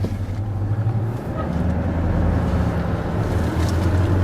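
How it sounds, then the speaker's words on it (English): A 2014 Chevy Corvette Stingray idles after starting, a loud, close, steady low engine rumble with a slight rise in pitch partway through, heard alone without talk. "So I'm going to start this thing up, put the foot on the brake, start it."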